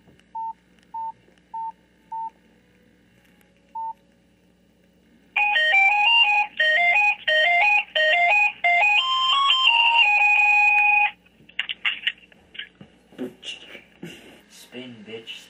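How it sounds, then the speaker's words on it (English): Several short electronic beeps, then a loud synthesized mobile phone ringtone melody of repeated tone bursts for about six seconds, followed by scattered noise. "Let's listen to my awesome ringtone."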